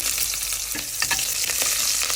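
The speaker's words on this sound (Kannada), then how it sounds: "ಒಗ್ಗರಣೆಗೆ ಸ್ವಲ್ಪ ಎಣ್ಣೆಗೆ ಸ್ವಲ್ಪ ಸಾಸಿವೆ, ಒಂದು 4 ಬೆಳ್ಳುಳ್ಳಿ, ಕರ್ಬೇವಿನ ಸೊಪ್ಪು, ಅರ್ಧ ಈರುಳ್ಳಿ" Mustard seeds, garlic, curry leaves and onion frying in hot oil as a tempering for rice ganji sambar: a steady, close sizzle with scattered sharp crackles and pops, no voices.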